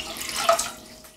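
Water, 1.5 litres, pours into a cooking pot in a home kitchen, a short close splashing rush that swells, then tapers off within about a second.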